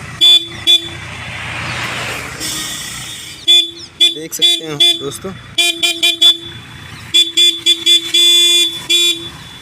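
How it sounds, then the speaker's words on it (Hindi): A Hero Splendor Plus motorcycle horn sounds in several short, loud honks of varying length, some spaced apart and others closer together, with someone speaking between and over the blasts. "हॉर्न भी अच्छी तरीके से वर्क कर रहा है।"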